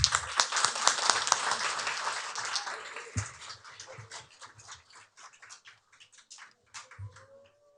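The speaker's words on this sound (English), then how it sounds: "Can we give Aiden a round of applause" Applause for Aiden from the audience at a City of Carson parks and recreation commission meeting, a dense burst of clapping that thins out over several seconds, with a dog whimpering and barking nearby.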